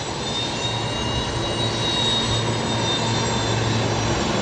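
An aircraft is marshalled in at Brisbane Airport, its idling jet engines giving a steady, fairly loud whine and hum with a low throb underneath and no talking.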